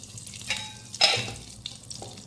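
Ghee heated in a pan for frying raisins and cashews gives a close, steady sizzle and crackle, with brief bursts of spattering and no talking.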